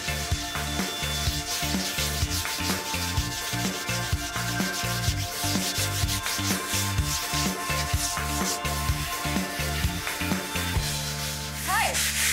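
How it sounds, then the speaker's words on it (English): Folded sandpaper rubbed by hand across a wall patch, a close, steady run of rhythmic scratchy strokes that keeps going with no break, with no speech over it. "let's get sanding"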